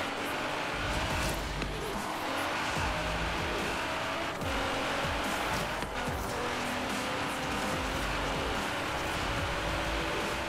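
A powerful race car, a Nissan GT-R, roars continuously in Forza Horizon 3, its engine droning loud and steady with shifting pitch as it accelerates and drifts, and faint tire noise underneath.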